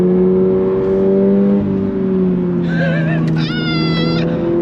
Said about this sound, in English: On the brakes. Hear that heel toe, baby?